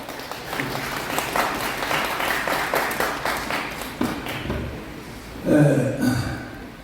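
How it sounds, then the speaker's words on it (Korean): An audience at a press conference applauds to welcome the speaker, a dense round of clapping that fades after a few seconds before a voice begins speaking close by. "큰 박수로 맞아주십시오."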